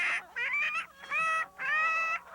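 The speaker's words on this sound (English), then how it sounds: "the chickens started squawking and flying around" Chickens in a hen house squawk loudly, giving three or four drawn-out, shrill cries in quick succession close by, with no talking over them.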